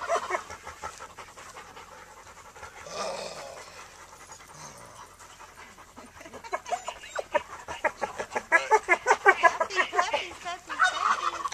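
Puppies panting in quick, rhythmic breaths that start soft and grow louder and closer toward the end, with no talking.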